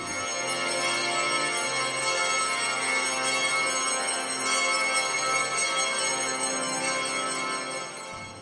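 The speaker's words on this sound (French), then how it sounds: "Les cloches et le chant du Gloria ont marqué l'annonce." Church bells ring continuously for the Easter Vigil Gloria, a dense, sustained metallic chiming, fairly distant and steady throughout, with no talking.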